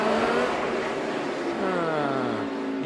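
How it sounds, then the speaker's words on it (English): Race car engine at the 2014 STP 500 NASCAR race, loud and continuous, its pitch sliding down and back up as the driver works through a corner, with a steady roar filling the whole stretch. "But listen to the engine."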